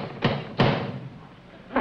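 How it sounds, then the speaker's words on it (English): Knocks land on an apartment door in a 1967 sitcom scene, two firm thuds close together, then a quiet pause before a third begins at the end. "And he knocks on the door."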